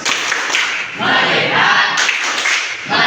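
A school class performs a rhythmic focus clap together, with bursts of many hands clapping in unison forming a loud, patterned beat close by, with group voices mixed in.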